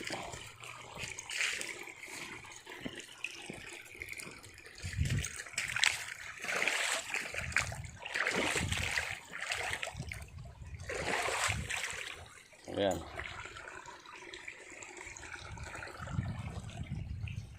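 Water flowing and splashing in a small farm stream after heavy rain, a steady trickling rush with irregular splatters, close by and moderately loud, with faint voices now and then.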